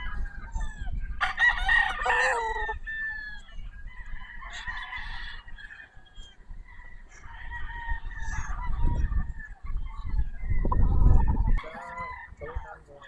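Red Kelso gamefowl broodcocks on a gamefarm crow repeatedly, several loud, drawn-out cock-a-doodle-doos overlapping with clucks and honk-like calls, fairly close, with someone talking faintly in between.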